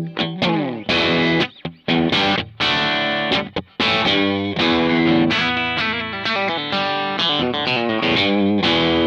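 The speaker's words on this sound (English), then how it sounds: "gained a reputation among hard rock and metal players as the go-to pedal for crushing metal tones" A heavily distorted electric guitar through a distortion pedal plays chunky, crushing metal riffs and sustained chords, loud and saturated with gritty overdrive.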